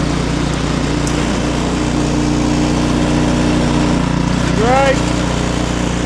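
An Ariens snowblower engine runs at a steady, droning idle close by, with a short spoken word over it near the end.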